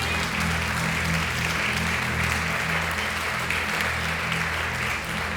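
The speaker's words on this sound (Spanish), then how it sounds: "Dele un fuerte aplauso al Rey." Congregation applause in a Spanish-speaking church service, steady clapping over sustained low music.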